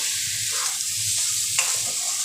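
Two or three green chillies sizzle in oil-released frying spice paste, a continuous close hiss with a few stirring scrapes, no talk.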